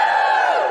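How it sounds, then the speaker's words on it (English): Live audience at a comedy podcast recording cheering and whooping together, a dense, loud crowd roar sustained throughout with no talk over it. "If you do, give us a cheer."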